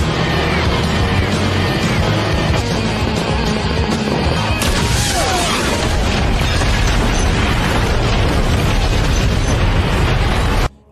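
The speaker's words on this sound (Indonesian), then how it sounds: "Mobil-mobil pun meledak satu persatu." Cars blowing up one after another in an action film scene, a dense, loud wall of booming blasts, crashes and rumbling debris that runs almost continuously for about ten seconds before cutting off abruptly.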